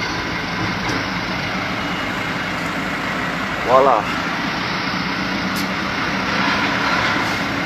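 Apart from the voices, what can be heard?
trucks and traffic in a jam on a toll road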